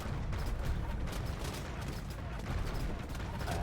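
Hand cannon gunfire rattles through a large real-time strategy battle in an Age of Empires style team game, a dense, continuous barrage of overlapping shots and impacts with no clear pauses.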